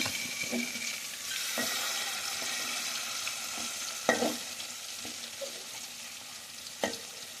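Pearl spot fish (karimeen) frying in a pan gives off a steady, close sizzle, broken by a few sharp clacks of a utensil against the pan.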